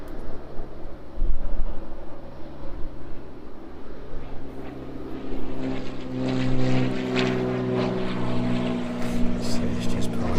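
A Boeing 777 departs overhead at East Midlands Airport, a loud low jet engine roar that swells and lingers, with a person talking underneath.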